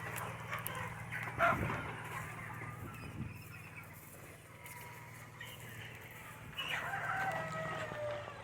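Rooster crowing among chickens at a farm, a moderately distant crow with clucking and faint background chatter over a low steady hum.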